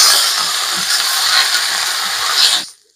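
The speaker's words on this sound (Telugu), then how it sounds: "నేను కరివేపాకును సపరేట్ గా ఫ్రై చేయనండి." Curry leaves fry in a pan with a loud, steady sizzling hiss that cuts off abruptly near the end, with no voices.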